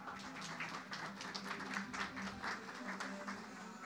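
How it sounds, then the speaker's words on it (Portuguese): Audience applause greets a company CEO arriving on stage at a tech event, steady broadband clapping throughout at moderate level with some voices mixed in beneath it. "Palmas para ele."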